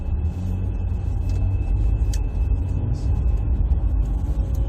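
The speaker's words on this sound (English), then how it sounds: "What kind of car is that? A Mercedes?" A Mercedes car drives by on a city street, a steady low rumble of engine and tyre noise holding throughout at moderate loudness, with faint traffic sounds around it.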